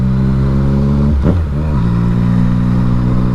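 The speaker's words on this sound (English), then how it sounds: "as long as you can hear the sound, hear the revs." A 2018 Yamaha MT-09 SP motorcycle engine idles loudly and steadily up close, then blips through a quick rise and fall in revs around the middle before settling back to a steady idle.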